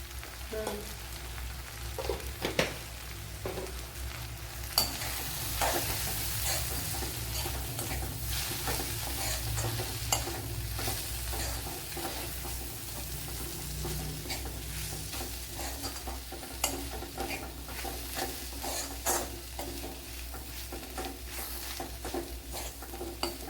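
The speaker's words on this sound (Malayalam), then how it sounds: "ഇവിടെ മസാലയെല്ലാം നല്ലതുപോലെ വഴറ്റിയെടുത്തിട്ടുണ്ട്" Masala for egg curry sautéed in a pan with garam masala, giving a constant close sizzle broken by repeated scraping and tapping of a spatula, with no one speaking.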